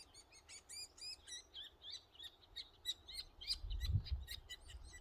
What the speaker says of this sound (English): you should be able to hear the chicks begging when I play the video